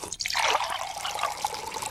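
White cranberry juice drink from Ocean Spray spilling in a TV commercial, a quick splashing pour that starts abruptly and trickles on for a couple of seconds, close and fairly loud with no talking.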